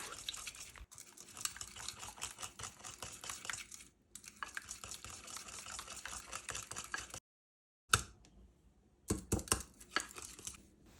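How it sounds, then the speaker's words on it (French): Batter made with Greek yogurt being whisked in a bowl, giving fast, steady scraping and sloshing strokes up close. The strokes continue with a short pause, stop briefly, then resume in quick bursts. "Et maintenant, on fouette bien le tout."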